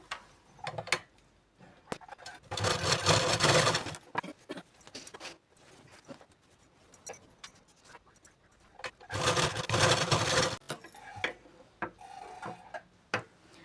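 A sewing machine stitches a straight seam on a Katori blouse being remade from an old one, running in two steady mechanical bursts with quieter handling noises between them.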